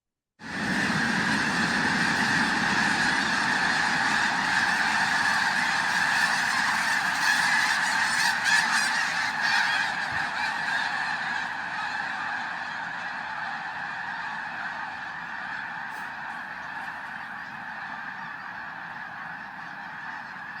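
A flock of geese honking, their calls layered into a dense, continuous chorus that starts abruptly, stays loud and close for about ten seconds, then eases slightly while carrying on to the end; a faint vehicle rumble sits underneath.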